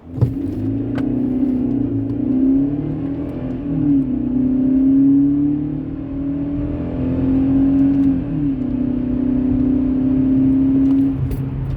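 A 2006 Mercedes C180 Kompressor with a supercharged 143 hp four-cylinder engine accelerates toward 100 km/h, a steady droning engine tone rising and dipping through gear changes, heard from inside the car with no talk.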